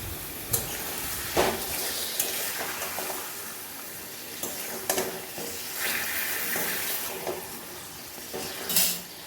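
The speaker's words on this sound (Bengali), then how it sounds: "এবার আমি নুন হলুদ দিয়ে ম্যারিনেট করা চিকেনটা দিয়ে দিলাম" Chicken marinated with salt and turmeric frying with browned onions in a pan, a soft sizzle under repeated scraping and clinking stirs of a utensil, close but moderately quiet, with no talking.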